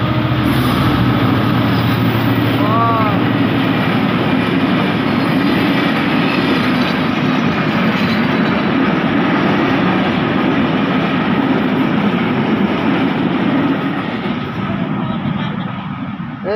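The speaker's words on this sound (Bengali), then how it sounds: "দর্শক দেখেন ট্রেন আসতেছে" A train rolls past houses along a railway line, a loud, continuous rumble with rhythmic clickety-clack from the wheels that stays close for the whole stretch before easing slightly at the end.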